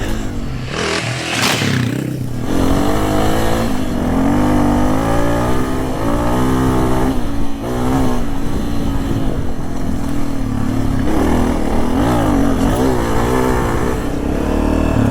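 A small dual sport motorcycle rides through the desert, its engine revving and shifting close up in a loud, steady stream with rising and falling pitch, and no talk.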